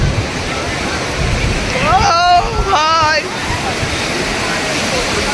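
Broadband surf roar of sea waves breaking on the beach at Digha, steady and loud throughout, with brief voices shouting over it partway through.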